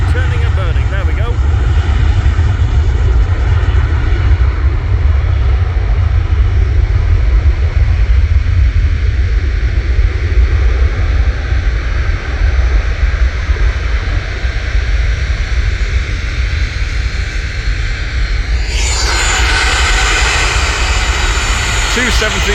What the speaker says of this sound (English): Two 737s in a row.